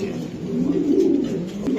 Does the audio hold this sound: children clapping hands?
no